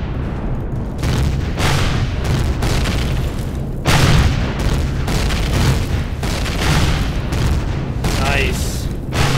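Rocket launcher blasts pound an outpost under attack in the video game Empyrion Galactic Survival, a dense run of loud booming explosions and gunfire-like bursts rolling one after another over the whole stretch.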